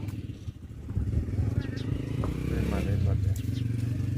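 A motorcycle engine rises and idles close by at an outdoor festival fair in Maari, Rajanpur, a steady throbbing putter with clattery overtones.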